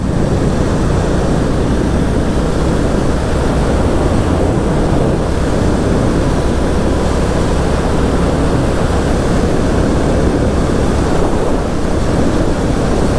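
Royal Enfield Classic 350 motorcycle cruising in top gear on a main road, a steady, loud engine drone buried in heavy wind rush across the microphone, continuous and unbroken throughout.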